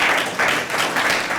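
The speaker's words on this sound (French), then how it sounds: "Je vous demande d'applaudir très très fort Dr Chirurgie Balachandra, cher public." Audience applause for a guest on a talk show, a moderate steady patter of many hands clapping with slight swells, alone without talk.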